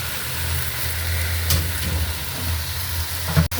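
Leafy greens with green chillies and onion fry in a pan, giving a steady soft sizzle under a low hum, with a brief clink near the end and no voices.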